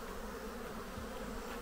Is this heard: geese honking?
no